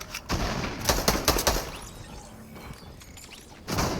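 Gunfire rings out in a Fortnite-style battle royale game: several rapid bursts of shots crack close and loud early on, fade to quieter rumbling in the middle, then another burst hits near the end.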